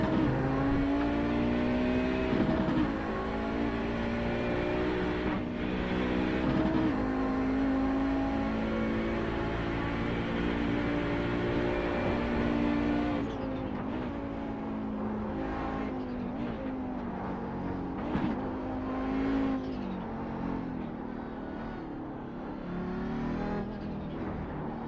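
An old Audi race car with a V10 engine revs hard and holds a high, steady engine note, shifting and dropping in pitch as it drives on, loud and close with no talk.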